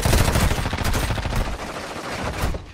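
Rapid automatic gunfire in the mobile shooter Call of Duty Warzone Mobile on Rebirth Island: dense, loud, overlapping bursts that fill the clip and ease off slightly toward the end.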